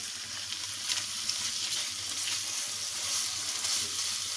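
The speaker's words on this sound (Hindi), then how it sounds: "ये इसमें ऐड करके अब इसको हल्का सा इसके साथ फ्राई करूँगी मैं।" Minced beef fries in a pan with a steady, dense sizzle and occasional stirring, loud and close with no talking.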